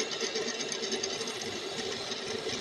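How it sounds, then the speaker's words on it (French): A milling machine with a cutter and dividing head drills into a metal plate, giving a steady, continuous whirring hum with a busy mechanical texture throughout, moderately loud and uninterrupted. "Petit coup de fraiseuse avec le diviseur, c'est très facile de se centrer"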